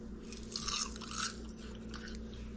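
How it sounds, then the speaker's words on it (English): Crunchy, fresh-from-the-oven kale chips chewed close by, with dense crackly crunching bursts swelling for about a second in the middle over a steady room hum. "I don't know if you could hear that crunch"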